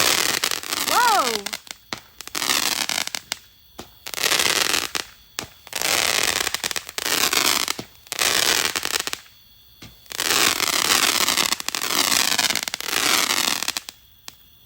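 Fireworks from a Fourth of July backyard show explode in repeated loud bursts with crackling tails, separated by brief quiet gaps, while people talk and react between shots.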